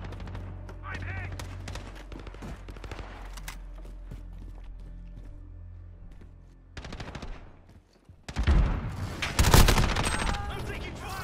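Gunfire in Modern Warfare 2, a video game, with scattered shots and then a loud burst of rapid automatic fire near the end, mixed with game sounds and a voice.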